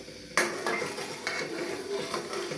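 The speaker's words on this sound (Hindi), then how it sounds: "थोड़ा सा चम्मच की मदद से इसको हल्का सा हिलाते हैं" Milk vermicelli being stirred with a spoon in a pan, a soft steady simmering hiss with several light scrapes and taps of the spoon against the metal, close and quiet, no talking.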